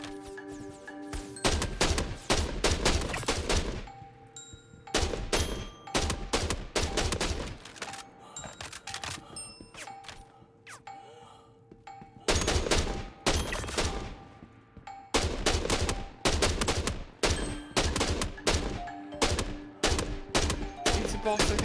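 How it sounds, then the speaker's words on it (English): Bursts of enemy gunfire in a ground-combat video game crackle in long rapid volleys, sharp and dense, separated by brief quiet gaps. "They're firing from a long way."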